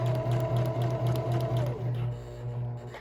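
Sewing machine stitching fabric at slow speed along a 5/8-inch seam, a steady, even motor hum with regular stitch pulses that slows and winds down toward the end, close and alone.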